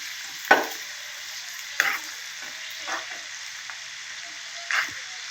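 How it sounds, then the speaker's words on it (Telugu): Crispy corn deep frying in hot oil, giving a continuous bright sizzle with several louder splattering pops and stirring clatters at uneven intervals, close and steady throughout. "బాగా క్రిస్పీగా వచ్చే వరకు ఫ్రై చేసుకోవాలి"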